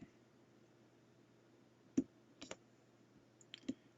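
A few faint computer mouse clicks sound, isolated sharp taps at irregular intervals over a quiet background hum, as a box is clicked on a web page.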